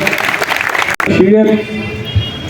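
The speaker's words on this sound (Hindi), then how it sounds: "एक बार जोरदार ताली से उनका स्वागत" Crowd applause at an outdoor foundation-stone ceremony for a health centre near Sanjay Park, Shakarpur, East Delhi: a dense, loud burst of clapping that gives way to amplified speech over a lingering crowd murmur.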